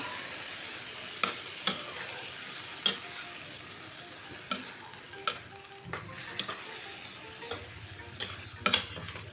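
Mung bean stew being stirred in a full frying pan, a low sizzle under repeated scraping clicks of a spoon against the pan, close and alone, with no talking.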